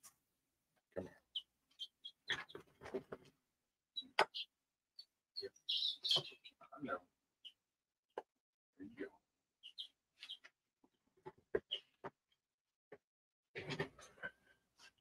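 Baby chicks in a brooder give scattered, faint, high chirps and peeps in short bursts separated by quiet gaps, with some soft handling noises.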